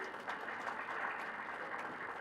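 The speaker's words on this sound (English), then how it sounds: "I think we can clap for Nigeria." An audience at a Nigerian political gathering breaks into applause, a faint, distant wash of many clapping hands held steady for a couple of seconds.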